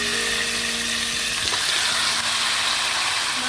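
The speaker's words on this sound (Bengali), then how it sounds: "তো সবার প্রথমে আমি মাংসটা ভাজতে যাব" Chicken pieces frying in a pan for a dhaba-style chicken curry, a loud, steady, close hiss of sizzling oil with a faint background hum, unbroken throughout and no talking.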